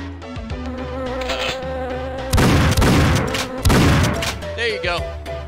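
Killer bees buzz in the Jazz Jackrabbit Doom video game, a loud swarming drone layered over steady game music, with heavy bursts of noise in the middle.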